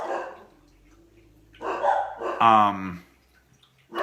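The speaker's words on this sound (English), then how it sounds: "And one is barking." A dog barks a few times in a short burst, fairly close, with a person talking before and after it.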